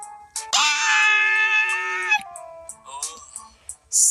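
Sand in a shaken hourglass in the video game Obey Me! Nightbringer lets out a long, loud, shrill scream that holds for over a second, then trails into fainter wavering cries, like a yowling cat.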